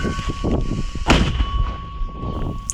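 A single heavy, booming mortar launch blast rings out near Bakhmut, followed by a rumbling echo under steady background hum.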